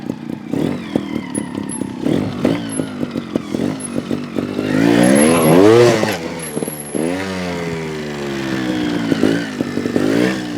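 A GasGas TXT 300 trials motorcycle engine revs in a backyard obstacle course, close and loud, with a choppy two-stroke putter rising into sustained higher-pitched revving in the middle before settling back.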